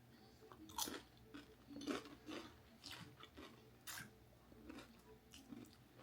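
Someone chews a spicy crunchy snack, gone slightly soft from sitting in a car, close to the mic. The quiet crunches and bites repeat in an uneven rhythm for several seconds, with no talking.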